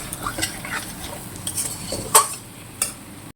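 Potato gravy with tomato sauce being stirred and sautéed in a pan: soft sizzling under a few sharp spoon-against-metal clinks and scrapes, close and intermittent, no talking.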